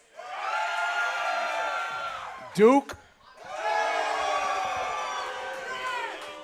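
Large live crowd at a Final Four show in San Antonio cheering and shouting loudly in two sustained bursts, broken by a short rising whoop and a brief pause, with talk over the noise.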